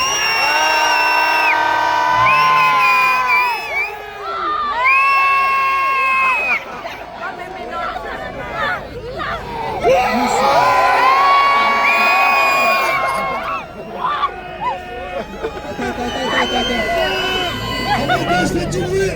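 A crowd at a live show cheers, whoops and shouts in loud, sustained waves while a voice over a microphone hypes them up, with a swelling roar of babble throughout.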